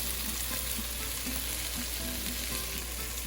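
Aromatics with chili flakes, salt and pepper browning in a pan ahead of butternut squash for soup, giving a dense, steady sizzle and crackle close up, with no talking.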